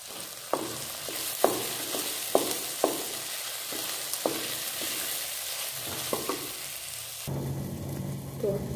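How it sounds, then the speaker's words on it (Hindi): Tomato and onion masala with cumin seeds frying in a pan for a makhana matar sabji, soft sizzling under a series of sharp spoon scrapes and taps, ending in steadier louder frying. "साथ में हम डाल देंगे थोड़ा सा जीरा ताकि ये भी अच्छे से भुन जाए इनके साथ, टमाटर और प्याज के साथ"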